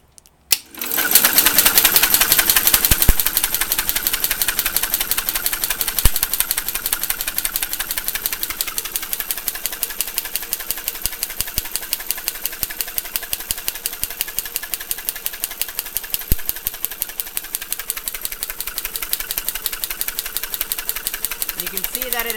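A small engine being cranked with a water-sprayed spark plug test setup, running as a steady, fast rhythmic mechanical chatter that holds for over twenty seconds without catching, with voices talking over it.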